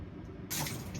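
Squid rinsed under a running kitchen tap, a brief close burst of splashing water that starts abruptly partway through and continues to the end, alone without talk.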